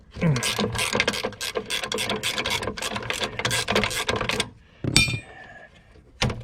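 Rapid ratchet clicks from tightening the front drive pulley on a Murray lawnmower come in dense bursts for several seconds, then stop, with a few sharp isolated clicks afterward, close and fairly loud.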